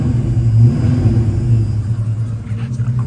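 A 1970 Mercury Cougar with about 56,000 miles idles close by, its engine giving a steady, loud low rumble with slight swells in revving.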